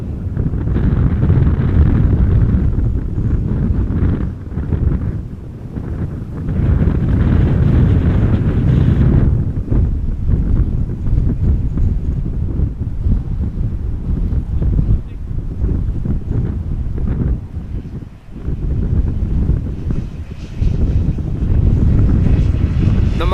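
Strong crosswind gusting over a microphone at Amsterdam Schiphol Airport, a loud continuous low roar and buffeting that swells and dips for the whole stretch, near and heavy.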